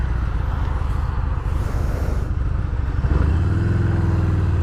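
A 2019 Harley-Davidson Fat Bob 114 with Rinehart slip-on exhausts rumbles loudly at close range, a deep pulsing idle that swells into a stronger, steadier throb as the engine is revved.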